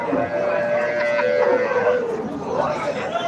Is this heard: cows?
yes